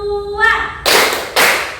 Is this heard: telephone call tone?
no